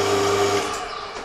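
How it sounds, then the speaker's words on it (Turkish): An electrical device on a 3 kW single-phase water turbine alternator gives a steady buzzing tone that cuts off after about half a second, leaving a fainter hum. "Bakın cihaz ötmeye başladı."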